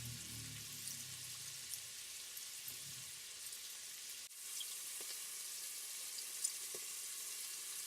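Beef pieces frying over high heat in a pan for curry beef and potato, giving a steady, fairly faint sizzle with a few small pops and a brief low stirring rumble near the start.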